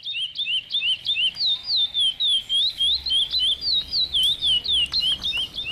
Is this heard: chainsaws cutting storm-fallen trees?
no